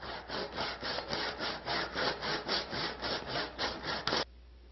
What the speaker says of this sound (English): then we'll come back with this Japanese pull saw and just trim this